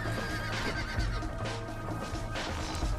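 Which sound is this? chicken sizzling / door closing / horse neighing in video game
horse neighing in video game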